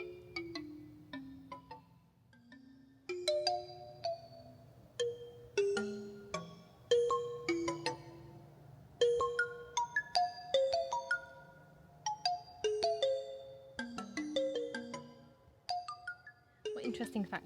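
Soft, bell-like synthesized notes make up a musical sonification of an oak tree, ringing out in sparse melodic clusters over a faint low hum, quiet and unhurried, with no voices.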